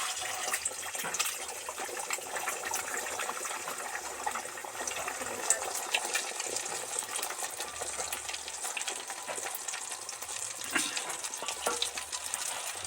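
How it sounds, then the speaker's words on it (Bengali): Beaten egg sizzling as it is poured into hot oil in a kadai, a steady, fairly loud crackling hiss that runs continuously with no voices. "এই ফ্যাটানো ডিমটা কড়ার মধ্যে আস্তে আস্তে ছেড়ে দেবো"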